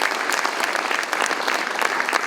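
Dense applause from a crowd at a city State of the City address, steady and loud throughout the short stretch, with no voices standing out.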